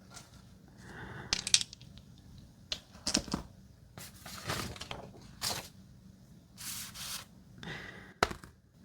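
Dice for a pen and paper role-playing game tumble and clatter in short, soft bursts spaced across quiet pauses, close and intimate.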